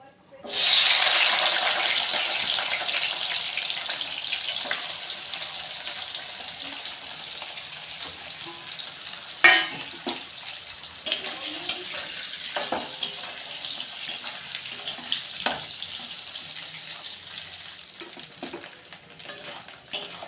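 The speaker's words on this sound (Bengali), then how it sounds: "এবার আমি একটু মাছগুলো ভেজে নেব" Dried Bombay duck fish drops into hot mustard oil in a wok and bursts into a loud hissing sizzle that slowly settles into a crackling fry, with intermittent stirring clatter and occasional clunks.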